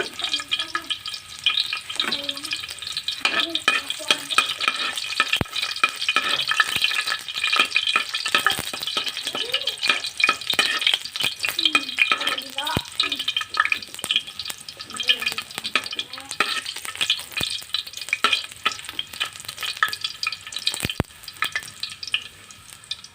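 Garlic fries and is stirred in a pan, making a continuous crackling sizzle with frequent scrapes and clicks of the utensil against the pan.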